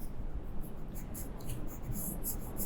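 A pencil scratches quickly across a flipbook page while sketching a small T-Rex, giving soft, close scratching strokes in irregular bursts.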